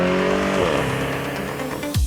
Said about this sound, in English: When you're pushing hard like this, it's deep and sonorous, but there's all the snap, crackle, and pop.